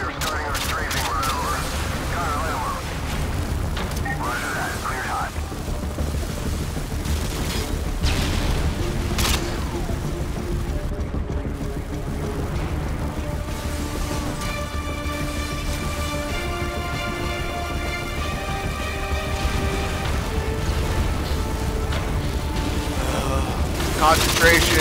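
Modern Warfare 2 gameplay during a strafe run, with continuous rattling gunfire and heavy booming explosions layered into a dense, loud battle din, while voices talk over it throughout.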